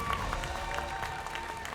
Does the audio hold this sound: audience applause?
yes